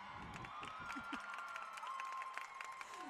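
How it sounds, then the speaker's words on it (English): Teammates in a corner at an Ursinus vs. Pennsylvania gymnastics meet cheer and applaud after a routine ends in a double tuck, with scattered claps and shouts rising over a steady crowd murmur throughout. "Teammates in her corner cheering her on."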